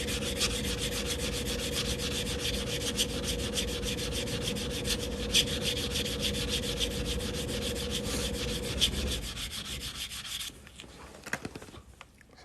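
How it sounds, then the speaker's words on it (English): Steady abrasive rubbing of sandpaper smoothing the cut edge of a coin ring made from a half dollar, continuous and close for about nine seconds before trailing off into quieter scattered scrapes. "I was just sanding this cut edge smooth"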